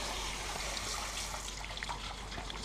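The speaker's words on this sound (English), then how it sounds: "Give the brush a little rinse." A brush being rinsed in water after caustic stripping, a soft, continuous trickle and slosh of liquid, close and fairly quiet, with no voices.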